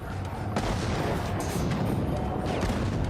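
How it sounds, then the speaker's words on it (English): Booming cannon fire from Navy ships and a shore battery rolls in a dense barrage, several sharp blasts punching through a constant heavy rumble. "a barrage of cannon fire from the Navy ships and the water battery quickly beats back the cavalry"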